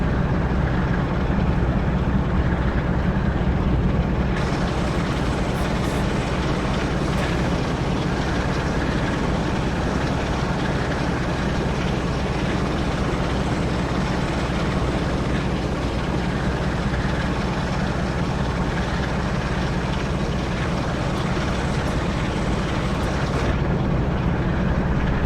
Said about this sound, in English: when you throttle this engine up, it sounds a bit like my summer car when you've got a few bolts loose in the engine.